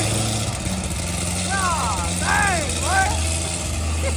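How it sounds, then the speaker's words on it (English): Corvette ZR1 cold start settling into a loud, steady idle, a deep droning rumble throughout with a few rising tonal squeals over the top partway through. "Cold start."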